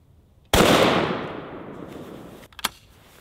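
A sawed-off double-barrel shotgun loaded with birdshot fires a single loud, close blast that rings out and decays over a couple of seconds, followed by a couple of sharp clacks, likely the action being handled.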